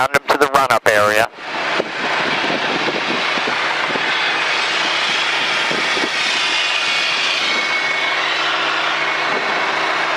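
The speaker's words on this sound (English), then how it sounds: "we're going to bring the engine up to running speed" Small single-engine training airplane taxiing toward a run-up area, its engine drone steady and loud and close throughout after a brief burst of other sound at the start.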